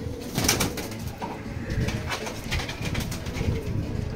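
Desi pigeons coo over and over in a loft in Howrah, close by and clear, with soft overlapping calls and a faint wing flutter.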